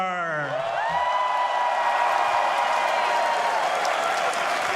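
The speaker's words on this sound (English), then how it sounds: "Stop clapping." A large crowd applauds and cheers at Ubisoft's E3 2019 show, sustained dense clapping with whoops under a voice that opens over it and a tonal sweep through the room.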